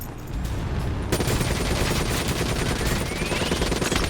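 A minigun in the Call of Duty Black Ops III video game fires a continuous rapid stream of gunfire, with game battle noise underneath; the sustained barrage starts loud about a second in and keeps going without a break.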